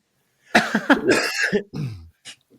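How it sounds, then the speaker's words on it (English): A few harsh coughs close to the microphone, followed by a lower throat-clearing rumble and a short final cough. "I'm coughing again."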